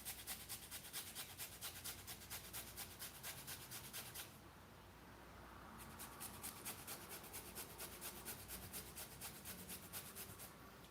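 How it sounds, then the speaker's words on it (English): About an inch of fresh ginger with fibrous ends trimmed is rubbed on a grater in quick, even rasping strokes that run steadily, ease briefly, then resume close to the mic with no voices. "I'm gonna grate in about 1 inch of this ginger."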